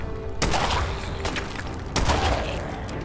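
Gunfire from a weapon in Fallout 4 in the Glowing Sea, with several loud sharp blasts, the strongest near the start and two-thirds of the way through, over a steady background roar and no speech.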